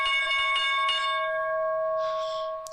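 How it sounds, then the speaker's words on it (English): A stock market opening bell rings with a sustained, bright metallic tone and a few rapid repeated strikes at the start, then a steady ring fading over a couple of seconds, loud and alone. "There's the opening bell"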